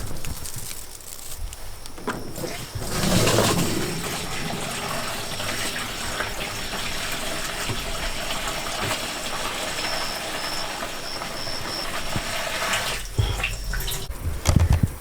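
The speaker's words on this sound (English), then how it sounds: "now it's time to add a little water" Water splashes and gushes steadily into a sprayer tank for several seconds, with a hollow rushing quality and a brief louder burst near the start.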